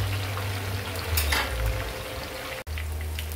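Yellow pin fish frying in a pan, a steady close sizzle and crackle with occasional stirring clatter and a brief cut near the end.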